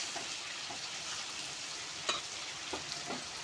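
Chicken and fried potatoes cook in masala, giving a steady close sizzle throughout with a few sharp clicks of a spoon stirring against the pan.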